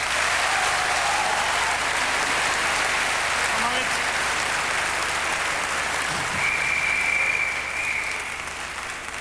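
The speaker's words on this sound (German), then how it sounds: "Das ist so ein Applaus wert." Steady applause from a studio audience on a 1987 German television game show, filling the whole stretch at moderate loudness with a brief whistle and faint voices mixed in.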